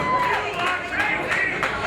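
A wrestling crowd at an AWE Culture Shock women's match roars and cheers in a dense, continuous wall of noise, with claps and shouts surging in waves.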